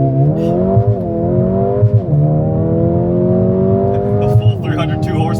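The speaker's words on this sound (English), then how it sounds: "I don't know if I like that upshift noise though" Mercedes-AMG CLA35 with 302 horsepower launching hard in Sport Plus launch control, the engine note climbing steadily with quick dips at each upshift, loud and close, punctuated by crackles at the gear changes.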